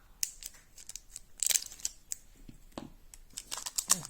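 Scissors snip and cut through the packaging of a Pikachu V Pokémon card box, giving a run of sharp, close clicks and crisp crinkly plastic and cardboard sounds in uneven bursts.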